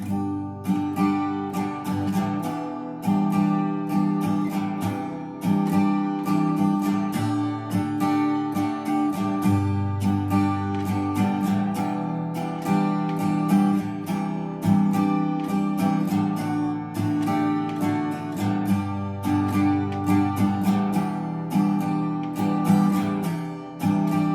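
Strummed acoustic guitar cycling through a 1-6-4-5 chord progression, steady rhythmic strums throughout with no voice.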